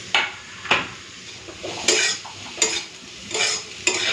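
Radish and potato pieces fry in a pan with a steady sizzle, while a spatula scrapes and knocks against the metal in repeated strokes, close and fairly loud, with no talking.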